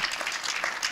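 Audience applause at a university history lecture, a short steady patter of many hands clapping together without any voices.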